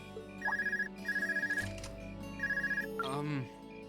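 An in-game telephone in Trails of Cold Steel rings in repeated short trilling bursts, three rings spaced across the stretch, with voices and game sounds around them.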